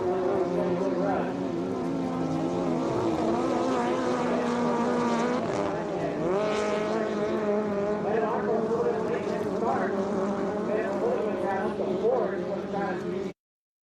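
Racing powerboats at a regatta in Cambridge, a continuous loud engine roar that shifts in pitch as the boats run, with an announcer's voice over it.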